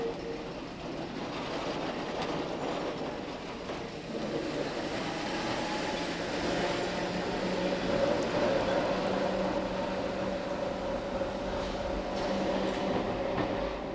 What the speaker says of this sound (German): Durch diese malerischen Straßen und Gassen rumpeln zweiachsige Gotha-Wagen